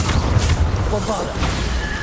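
The Bombarda explosion spell in Hogwarts Legacy lands as a heavy, rumbling boom with scattered crashing debris, mid-distance and sustained for a couple of seconds, while a voice speaks over it.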